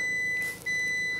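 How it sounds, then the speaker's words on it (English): A steady high electronic beep tone sounds continuously inside a converted van, briefly cutting out once before resuming, close and loud. "I don't know what that beeping noise is."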